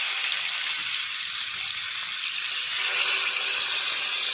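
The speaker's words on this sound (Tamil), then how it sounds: "இப்போ எண்ணெய் சூடாயிடுச்சு. இப்போ மீன் எல்லாத்தையுமே ஆட் பண்ணிக்கலாம்." Fish (kavala or mathi) frying in hot oil in a pan, a steady dense sizzle that stays loud and continuous throughout, close up, with no talking.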